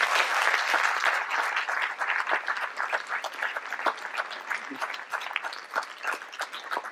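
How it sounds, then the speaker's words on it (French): An audience gives firefighters and gendarmes a round of applause at a mayor's New Year address in Les Forges de Lanouée, dense, lively clapping that stays strong for about seven seconds before thinning slightly. "Je crois qu'on peut les applaudir."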